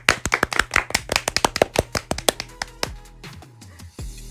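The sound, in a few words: applause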